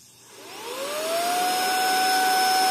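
A Suitu ST 6645 Pro car vacuum cleaner starts up, with its motor whine rising in pitch and settling into a steady, loud, close hum.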